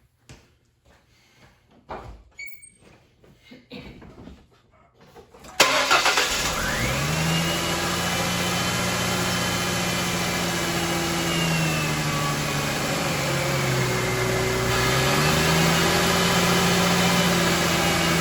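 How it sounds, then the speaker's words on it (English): A Ford Mustang's engine cranks and catches after a few quiet seconds of small clicks, then settles into a loud, steady idle with a faint whine on top, the engine note dipping and shifting slightly as it runs. "So let's start the car and see what it's doing."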